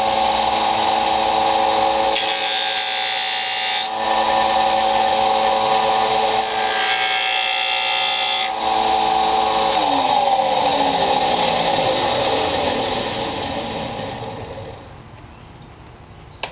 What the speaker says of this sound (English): You're going to flip her on and you're just going to sand off a little bit on the end.